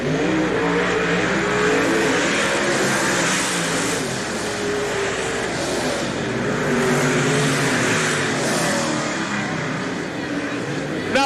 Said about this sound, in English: Cindy still out in front of Kahn by a couple car lengths